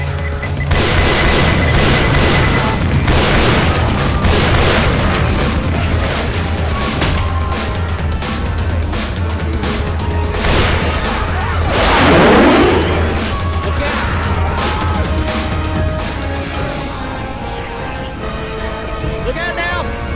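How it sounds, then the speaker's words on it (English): A pipe bomb blasts in Left 4 Dead 2 amid continuous game noise and gunfire, with one big swelling boom near the middle, while players talk excitedly over the chaotic mix. "Throw in a pipe bomb."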